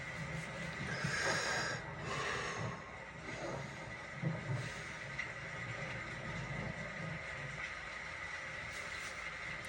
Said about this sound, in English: Just gotta breathe heavy.